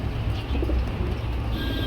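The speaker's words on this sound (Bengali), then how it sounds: "আজকে কিন্তু মন্ডিয়ান কবুতর আছে" Mondian pigeons coo softly and continuously at close range at a pigeon farm, their low murmuring calls overlapping with no voices heard.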